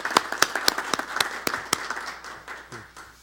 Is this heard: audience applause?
yes